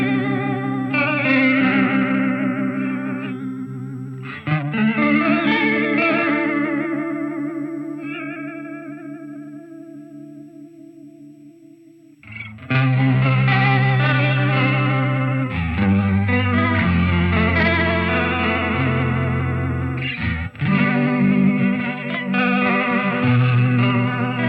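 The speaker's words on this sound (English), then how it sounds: "It's this cool flutter that's like almost randomly sounding flutter." An electric guitar through a Line 6 HX processor with a tape flutter effect plays chords and notes that waver in pitch almost at random, ringing out and fading before another strummed phrase, with no talking.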